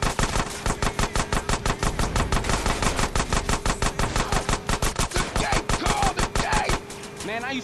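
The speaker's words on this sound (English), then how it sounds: "Shoot out some gate." Rapid automatic gunfire shooting out a gate in GTA San Andreas, a loud, evenly spaced stream of shots that runs for several seconds before cutting off near the end.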